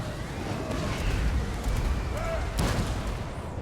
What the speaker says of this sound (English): My cannon didn't go far enough.